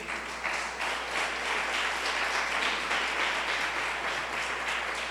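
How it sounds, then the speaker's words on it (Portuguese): A church congregation claps and applauds steadily throughout, a dense, continuous wash of applause filling the room without pause. "Aplaude a Jesus."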